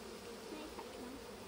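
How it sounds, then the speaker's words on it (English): Honeybees hum steadily around an opened hive during a UK backyard inspection, a dense, continuous drone close by with faint background rustle and no talk. "We move the little bees out of the way."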